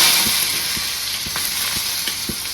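Onion frying in hot oil already crackling with cumin and mustard seeds, a steady loud sizzle with scattered pops and stirring clicks throughout, no voices.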